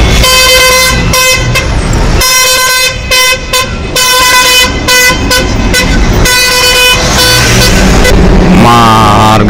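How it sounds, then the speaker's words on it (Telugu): Trucks and cars sound their horns in a highway traffic jam in Bihar, with loud, overlapping sustained honks and tooting blasts almost continuously throughout, under the steady rumble of engines. "ట్రాఫిక్ జామ్ బీహార్లో."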